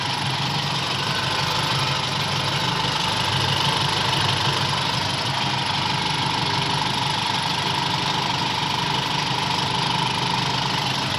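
Engine of a Toyota Kijang idling while warming up after a few minutes of running, a steady, even low rumble that holds at a constant level throughout with no talking.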